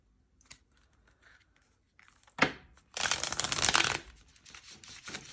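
Tarot cards are riffled and shuffled close by, first soft scattered taps, then a sharp burst and a dense, crisp rustle of about a second, followed by quieter card handling.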